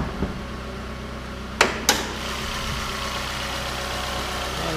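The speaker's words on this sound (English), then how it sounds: "And there's a little four-cylinder." A 2011 Suzuki SX4 four-cylinder engine idles steadily under an open hood, a close, even hum broken by two quick knocks or clicks partway through.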